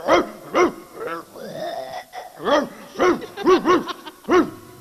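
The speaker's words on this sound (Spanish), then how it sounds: "El perro de la casa de al lado ladraba." A small dog barks repeatedly in short, sharp yips at an irregular pace, with a brief whimpering whine between barks; fairly close and clear.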